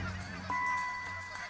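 Geese honk in flight near the boreal forest edge during a northern waterfowl hunt, a few calls rising over a steady low outdoor rumble.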